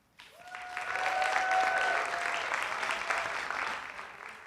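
An audience at a Broadway season unveiling in the Shubert Theatre breaks into sustained applause for the board chair, rising quickly and holding at a full, steady roar, with a faint whistle early on.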